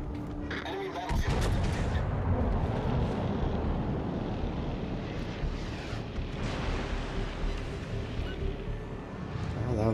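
Battleship artillery fire in World of Warships: Legends, with a sudden loud blast and rumbling gunfire that carries on as a dense, continuous roar under a voice.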